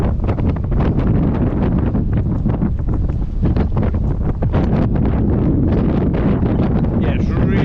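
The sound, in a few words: wind blowing at River Spey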